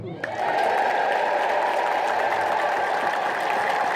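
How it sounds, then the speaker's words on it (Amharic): A congregation in an Ethiopian Orthodox church ululating together, a dense sustained trilling chorus that swells in after a short pause and carries on loudly without a break. "አየችው ይህንን እልልታ።"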